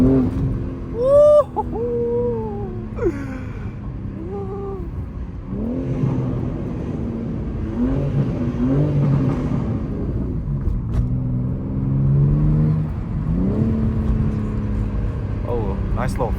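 A BMW G80 M3 with no downpipes revs with a loud, raspy exhaust roar rising and falling several times, over a rumbling idle, while people talk and shout nearby on a city street at night.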